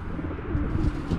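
Racing pigeons coo softly in a low, continuous murmur during a brief moment of a 280 km race basketting.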